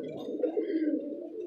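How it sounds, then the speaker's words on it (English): Pigeons coo outdoors in a steady, close, low rolling call lasting the whole moment, with no talking over it. "And look at these birds."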